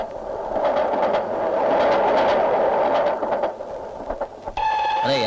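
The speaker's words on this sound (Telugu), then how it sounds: "రైలు వచ్చేస్తుంది." A train pulls into a station with a loud, steady rumble, and bright ringing tones like a bell or horn rise over it near the end.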